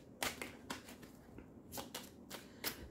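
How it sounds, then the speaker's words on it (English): Tarot cards are shuffled up close in quick papery riffles and soft bursts, about eight short rustles spread evenly over a quiet background. "Let's shuffle."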